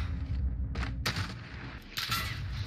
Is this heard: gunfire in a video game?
yes